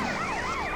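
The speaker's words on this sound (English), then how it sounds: "there are just police cars flying everywhere" Police siren wailing in Grand Theft Auto: San Andreas, a loud, close rising-and-falling electronic tone sweeping briefly over game background noise.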